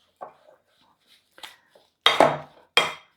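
Cookie dough mixed by hand in a bowl, a few sparse scrapes and clinks of a utensil against the bowl with quiet gaps between, the last two strokes louder and close.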